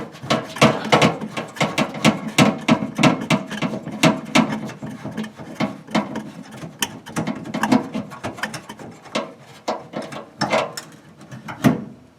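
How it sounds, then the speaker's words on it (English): A hand ratchet clicks rapidly in bursts, backing a nut off a fender trim bolt on a Ford Mustang, close and loud with brief pauses between strokes. "there's a bolt sticking through right here that holds on the trim, and the nut has to come out"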